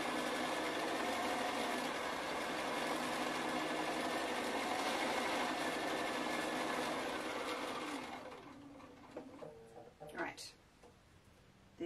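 A sewing machine runs a seam in a long, steady mechanical whir that fades out near the end, with a voice speaking over it.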